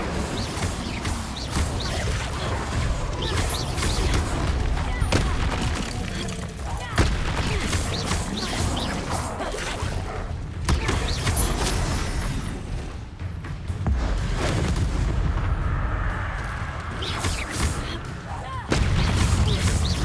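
Repeated fiery spell blasts from Confringo and Incendio in the game Hogwarts Legacy, a steady barrage of booming bursts and crackling impacts over twenty seconds, loud and close, with a player talking throughout.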